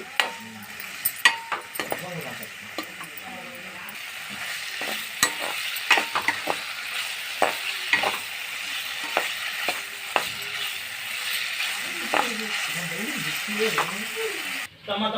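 Food sizzles steadily in a hot pan while a utensil stirs and scrapes it, giving irregular clicks and knocks throughout; a voice may be faintly present at times.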